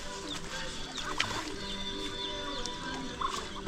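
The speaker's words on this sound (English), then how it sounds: "You can see we have lots of muscovy ducks swimming here." Muscovy ducks swimming on water make scattered soft fowl calls and short chirps over a steady outdoor background.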